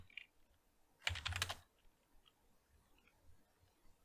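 A computer keyboard clatters in a single quick burst of keystrokes, close and clear, against near silence with a few faint clicks around it.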